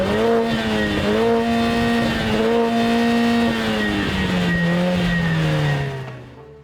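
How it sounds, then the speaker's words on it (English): A 2021 Mercedes-AMG GLA 45 exhaust pulls hard under acceleration, loud and close, with a steady rising engine note through one long gear and a brief dip before it fades out at the end. "And the exhaust sounds something like this."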